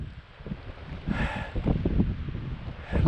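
Gusty wind buffets the microphone on an open kite-flying field, rising in rough low rumbling bursts that swell and ease over a few seconds.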